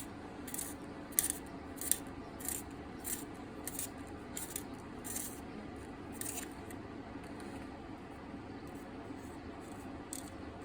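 A sharpener peels the wood off a Blackwing pencil in a run of quick, crisp shaving strokes, soft and close with a light background hiss.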